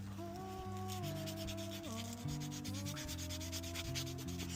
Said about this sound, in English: Take your time with the sanding. A good cloth sand.